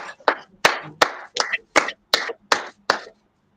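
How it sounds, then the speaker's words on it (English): A few people clap in slow unison, about nine sharp claps in a steady rhythm, close and fairly loud, with no talking over them. "Clap it up."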